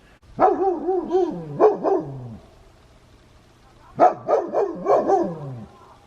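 A dog barks and yips in two bursts of several barks each, fairly close, with a quiet pause between the volleys.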